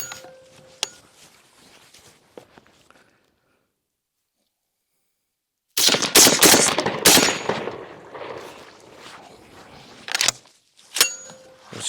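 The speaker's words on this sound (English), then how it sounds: "Again, these are 3-inch Magnum loads." A shotgun with a Pulsar Talion XG35 thermal scope mounted fires 3-inch Magnum loads outdoors, sharp close reports at the start and end around a dense, loud cluster of blasts and echoing rumble in the middle, separated by near silence.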